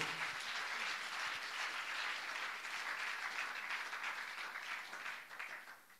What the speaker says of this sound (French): Can you give a round of applause to the Lord?